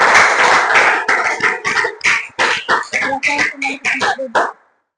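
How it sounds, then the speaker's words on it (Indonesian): Students in a classroom applaud their classmates, a burst of dense clapping that breaks into uneven rhythmic rounds of claps before stopping abruptly, fairly close, with some voices mixed in. "Ya, beri aplaus untuk teman kalian."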